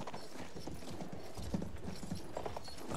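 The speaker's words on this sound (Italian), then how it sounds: "Oh, però c'è un cavallo qua." Horse hooves clip-clop steadily in the Battlefield 1 video game, soft and fairly close, with an even walking rhythm over quiet background ambience.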